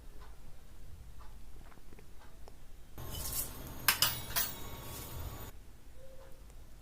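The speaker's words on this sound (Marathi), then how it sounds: "साधारण पाच ते सात मिनिट हे मसाले एकदम मंद आचेवर भाजून घ्यायचे आहेत" Whole garam masala spices are dry-roasted over very low heat in a kadhai, giving a soft rattle and clink of spices and utensil against the metal pan, louder for a few seconds in the middle, then quieter scattered ticks.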